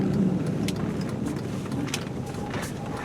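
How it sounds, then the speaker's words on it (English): A 2002 GMC Envoy drives along with a rear wheel bearing fault, giving a steady low road drone and hum from inside the cabin, with faint intermittent clicks and rattles over it. "it sounds like a rear wheel bearing to me"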